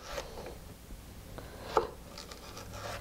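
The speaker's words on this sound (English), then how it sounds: "Cut the celery in half. Then cut it into little sticks," A knife cuts celery into sticks on a board: faint, sparse taps and scraping strokes with one sharper click, quiet and close, with no talking.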